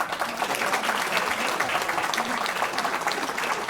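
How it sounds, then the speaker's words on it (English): A crowd applauds with steady, dense clapping that holds at an even volume throughout. "Let's give you a round of applause."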